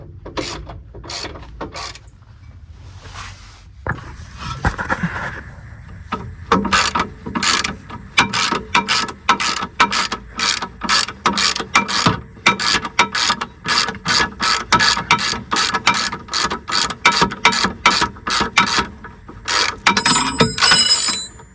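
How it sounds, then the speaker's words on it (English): Hand ratchet wrench fitted with a 16 mm socket backs out a shock absorber bolt on a broken Mercedes-Benz, giving a long run of loud, close, rapid clicking strokes in a steady rhythm after a few scattered clicks and fumbling at the start. "right now I'm using a 16 mil to remove this shock"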